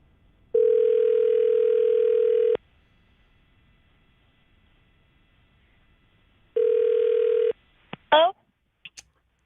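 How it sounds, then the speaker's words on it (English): A telephone ringback tone sounds while a cell phone is being called, two long steady buzzing rings separated by silence, followed by brief clicks and a short voice as the call connects. "calling the cell phone now"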